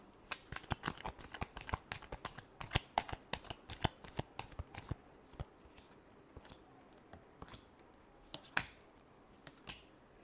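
Tarot cards being shuffled by hand, a rapid run of crisp riffling flicks and slaps that thins into scattered single taps, close and fairly quiet with no talking.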